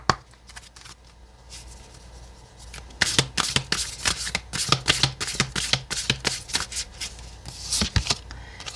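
Oracle cards being shuffled by hand during a tarot reading, a quiet start followed by a long run of crisp, rapid riffling bursts and flicks close to the listener.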